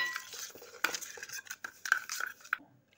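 A spoon stirs sugar into a passion fruit drink, clinking and scraping against the glass in irregular bursts, close and fairly quiet.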